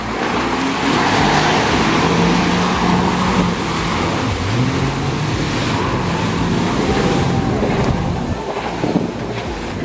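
Jet ski running on salty sea water while towing a second, broken-down jet ski, a steady loud engine roar mixed with rushing water and wind buffeting the microphone throughout.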